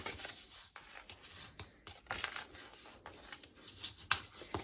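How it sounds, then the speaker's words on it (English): Bone folder burnishing crease lines on paper for a treat box, a series of close, dry rubbing and scraping strokes with a sharper tap near the end. "So burnish them, go through using your bone folder."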